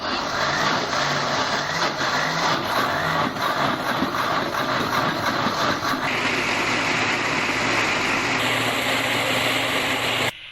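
Electric blender running steadily on half a portion of yogurt, a loud, continuous motor whir with a shift in pitch partway through, then cutting off at the end, no talking.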